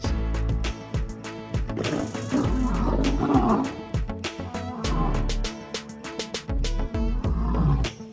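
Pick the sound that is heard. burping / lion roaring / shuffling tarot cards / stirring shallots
lion roaring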